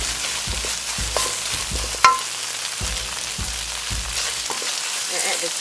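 Spring onion whites stir-fried in a wok for mapo tofu, a steady sizzle broken by repeated scraping strokes of a spatula and one sharp clank, close and alone.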